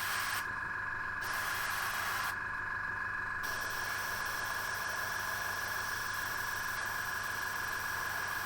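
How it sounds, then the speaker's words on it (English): An airbrush blowing air onto a painted miniature model to dry a wash, a steady soft hiss with a constant tonal whine, broken by two short pauses near the start and then running unbroken. "I'm just spraying some air onto there to try and help speed up"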